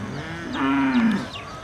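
A cow at a cattle market gives one clear, drawn-out moo, close and fairly loud over a low background murmur.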